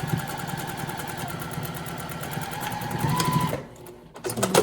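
A sewing machine runs a straight stitch through hoodie fabric, a steady rapid mechanical whir close by that stops briefly near the end before starting again.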